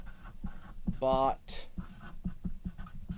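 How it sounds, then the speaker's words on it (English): Marker or chalk scratching on a board in short strokes, faint and rhythmic, mixed in with someone talking nearby. "So I wrote down robot girl."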